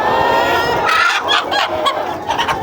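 Hens in a flock of non-laying chickens cluck loudly and close by, a dense overlapping run of short throaty calls that carries on without a break.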